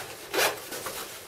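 A zipper on the pocket of a tactical shirt, an improved Direction Action shirt with color-matched zips, drawn in one short close rasping pull lasting about a second.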